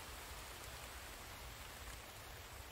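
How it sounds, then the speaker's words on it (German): Steady rain falls in the survival video game The Infected, a soft, even hiss of drops that runs unbroken and faint throughout with no voices. "Ach so, es regnet."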